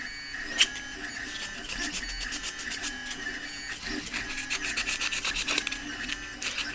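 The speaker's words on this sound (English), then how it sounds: "So you can sand that area as well if you want" Light, repeated rubbing strokes of sandpaper on a 3D-printed katana part with dried white super glue, close and fairly quiet, with a faint background hum.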